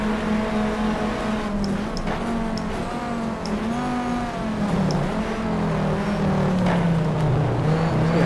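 Race car engine droning steadily in the GTR2 racing game at Interlagos, a sustained loud drone that rises and falls in pitch through gear changes while tucked in a slipstream, with no voices.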